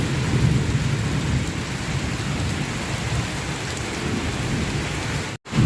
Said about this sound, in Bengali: কীরকম মেঘ ডাকছে।